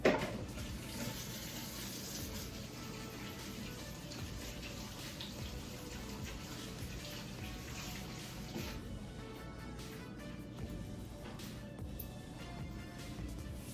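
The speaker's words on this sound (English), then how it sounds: "let me go wash my hands" A kitchen tap runs steadily while hands are washed under it, a continuous close hiss of water without talking.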